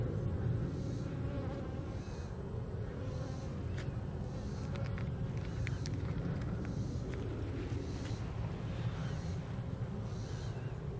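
Honey bees buzz steadily and densely at an open beehive during a hive inspection, a continuous close swarm drone with no talk over it.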